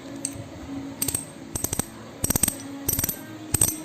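A Shimano bicycle freehub and cassette tick rapidly in short bursts of clicking, with brief pauses between spins and a faint background hum.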